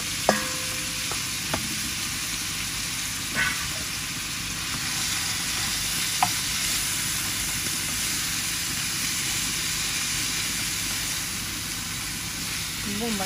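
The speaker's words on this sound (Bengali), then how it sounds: "রসুন হয়ে গেছে বাগার দেওয়া শাকটা লাগিয়ে দিলাম" Red amaranth greens frying in a garlic tempering, a continuous close sizzle and hiss broken by a few sharp clicks of the stirring utensil against the pan.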